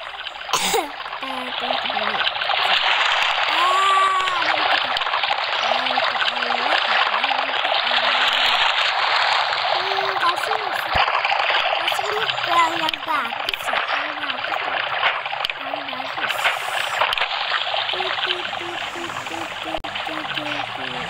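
Flowing, trickling water from a swimming pool in the Minecraft video game, a steady broadband wash under continuous talk and game music throughout.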